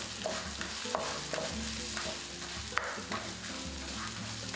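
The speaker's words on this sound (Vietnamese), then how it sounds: "mình sẽ bật bếp làm nóng dầu và sẽ phi thơm cái phần hành, tỏi, gừng, nghệ, ớt, sả mà mình đã giã nhỏ đấy ạ" Pounded shallot, garlic, ginger, turmeric, chili and lemongrass sizzle steadily in hot oil while being stirred, a continuous close frying hiss with occasional scraping.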